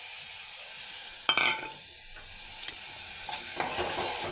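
Masala ingredients sizzling and being stirred in a hot pan for radish curd curry, with a steady frying hiss and a few sharp scraping stirs, close by with no talking.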